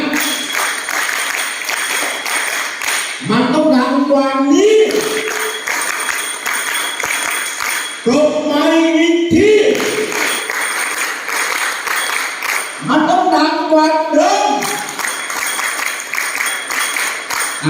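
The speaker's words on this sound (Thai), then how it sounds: "ปรบมือสิบครั้ง" A group of schoolchildren at a drug-prevention program claps in rhythmic bursts, loud and close, with chanted voices rising over the clapping in three distinct rounds.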